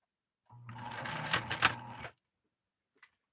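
A 1970s Viking 3600 sewing machine runs a blind hem stitch in one steady mechanical burst of about a second and a half, close and fairly loud, then stops, with a single faint click afterward.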